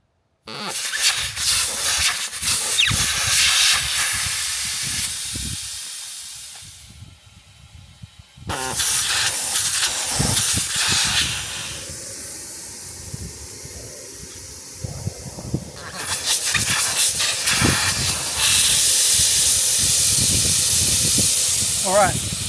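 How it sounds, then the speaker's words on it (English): Loud, steady air hissing from a 4WD's tyres as they are deflated for the beach, in long bursts that stop and restart several times, with brief quieter gaps between. "it's a little bit nerve-wracking letting the air out the tyres"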